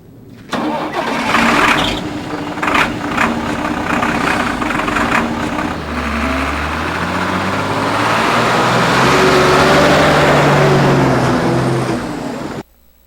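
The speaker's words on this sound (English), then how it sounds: "The truck literally turned its lights on and drove off almost immediately after he got out of it." A truck engine in The X-Files video game cranks and catches, idles roughly, then revs up and rumbles away steadily before cutting off abruptly. No voices.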